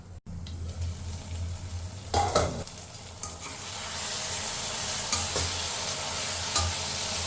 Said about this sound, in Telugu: ఉప్పు కారం కలిసేటట్టు కలుపుకొని మళ్ళీ మూత పెట్టుకోవాలి